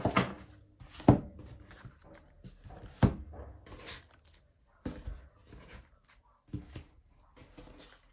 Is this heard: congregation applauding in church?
no